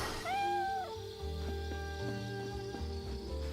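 A cat in the video game Fate/Samurai Remnant gives a short, clear meow over a layered game music background.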